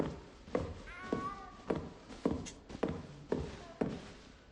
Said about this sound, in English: That has to be a cat, right?